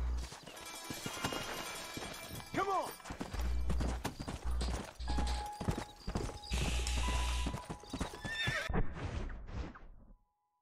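Horse hooves clip-clopping in the video game Red Dead Redemption, repeated sharp hoof strikes in an irregular rhythm with a clear neigh partway through, ending abruptly.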